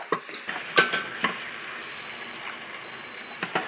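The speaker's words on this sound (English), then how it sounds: "Stir it and cook it until it becomes grainy." Curry turmeric paste and green seasoning sizzle with onions in a pot, with a quiet steady frying hiss broken by several sharp scraping stirs of a spoon.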